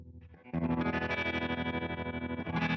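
Electric guitar played through a Universal Audio UAFX amplifier pedal with heavy reverb and sped-up modulation, a loud, sustained, swirling chord wash that swells after a brief quieter start, with no talking.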